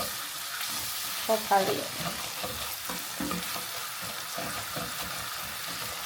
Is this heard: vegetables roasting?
yes